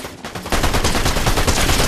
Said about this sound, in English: Eat my mythic SMG!